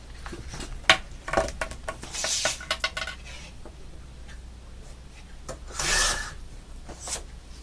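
Scissors or a blade cutting through a piece at a tab, a series of sharp close clicks and snips with light rubbing and scraping in between, fairly quiet, with no talking.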